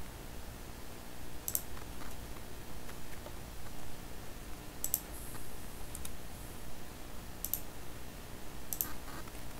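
Computer mouse clicks on a quiet desk, a handful of sharp isolated clicks spaced a few seconds apart over faint background hiss.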